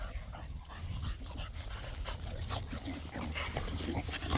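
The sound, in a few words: female bully dog whimpering while in heat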